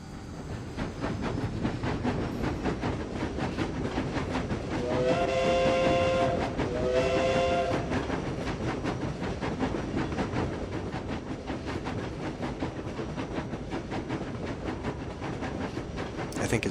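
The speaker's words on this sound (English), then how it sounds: "Let's try a steam train and see if that comes with anything." A steam train in SimCity 4 rolls along with a steady rhythmic rail clatter, and around the middle a whistle sounds in two clear blasts over the continuous chugging.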